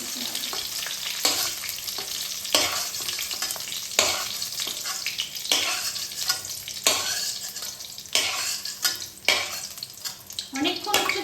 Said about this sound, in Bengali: অনেকক্ষণ হচ্ছে তুমি তেলে ফ্রাই হয়েছো